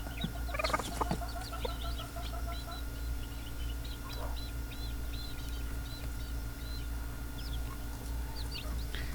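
Newly hatched Basilan chicks peep in a brooder, thin chirps scattered across the clip over a low steady hum, with a brief burst of louder clucking early on.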